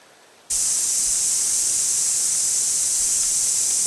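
Water bursts from a hose on a cabin homestead build site, switching on suddenly into a loud, steady, close hiss of spray that holds without pause.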